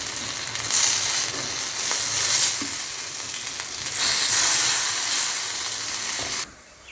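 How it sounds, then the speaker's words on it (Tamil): Plantain (raw banana) slices frying in oil in a pan over a medium flame, a loud continuous crackling sizzle with surges and small stirring clicks, then a sudden drop near the end. "நம்ம ஒரு மீடியம் ஃப்ளேமில் வச்சு ஒரு பக்கம் நல்லா ஃப்ரை ஆகட்டும்"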